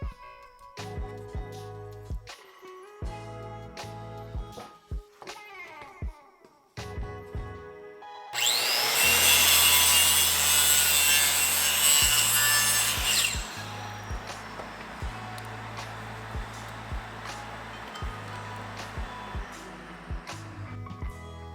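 Plywood being cut into an L shape to seat an acrylic canopy, with several short rhythmic sawing strokes, then a loud sustained stretch of harsh cutting noise, followed by more repeated strokes, close up and with no talk.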